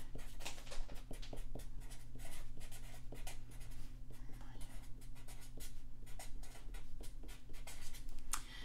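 Pen or marker writing out an equation during a fluid physics lesson, a close run of scratchy, tapping strokes that start and stop irregularly, with faint whispery breath and low room hum underneath.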